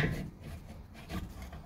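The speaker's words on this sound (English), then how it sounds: "I can take this caliper off. Slide pretty well, right off." A brake caliper slides off the rotor of a 1977 C3 Corvette during parking brake installation, heard as a brief close scraping and rubbing metal-on-metal rasp, alone without talk.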